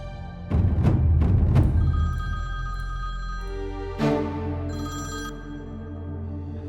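A telephone rings in a Turkish drama scene, loud and near, with a cluster of bright rings early on, then a pause and another ringing burst that fades out.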